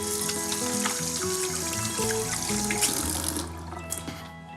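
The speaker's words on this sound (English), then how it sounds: "So I'm going to wash my hands and get started with these 2." Hands are washed under running tap water in a home kitchen, a close steady splashing stream over a sink lasting a few seconds, with no talking.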